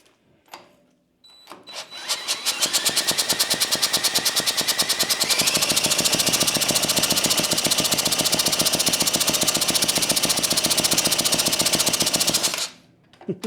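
The engine of an antique David Bradley walk-behind tractor, primed with brake cleaner in the intake, catches and runs with a loud, rapid, even chugging for about ten seconds before it abruptly cuts out.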